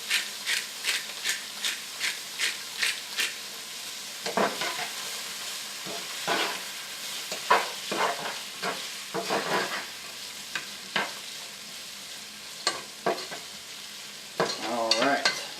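Turkey chili with beans and tomatoes cooks in a pot, with a run of rhythmic spoon scrapes and stirring strokes over a soft simmering sizzle, close and fairly quiet.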